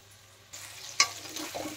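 Potatoes fry with spices in a pan for a chicken curry, making a quiet sizzle with faint stirring and one brief sharp clink. The sound is low and close, with no talking.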